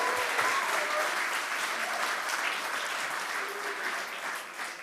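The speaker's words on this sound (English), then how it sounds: "Can we please give rounds of applause for everyone who is here today?" Audience at a TEDx event in Twente clapping in a sustained round of applause, dense and even at first, then slowly thinning toward the end.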